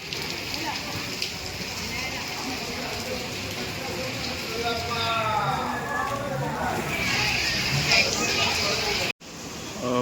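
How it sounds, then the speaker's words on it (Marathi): Steady monsoon rain hisses across the whole stretch at Ganpatipule temple, a continuous wash of noise with people talking over it. "आता पाऊस पडतोय तरीसुद्धा"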